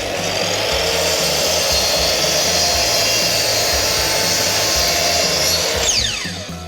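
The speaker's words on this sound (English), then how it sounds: "Just look at how beautiful that cut is coming off a handheld saw" A handheld power saw rips through a piece of wood for an apple box, a loud, close, steady whining cut lasting several seconds before the blade winds down at the end.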